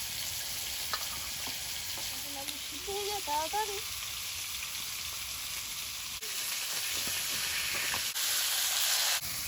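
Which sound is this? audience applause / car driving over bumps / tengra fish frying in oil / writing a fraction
tengra fish frying in oil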